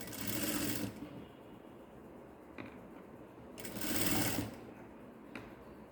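A sewing machine stitches a fancy saree blouse seam in two loud bursts of running, with a quieter pause between them and no talking.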